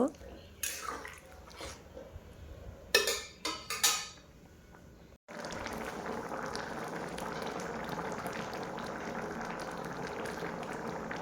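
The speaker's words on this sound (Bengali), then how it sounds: "ভালোভাবে এটাকে ফুটিয়ে নেব।" Boiled peas and potatoes simmering in spice mix for Bengali ghugni. A few utensil clinks and scrapes come first, then a steady, close bubbling boil continues.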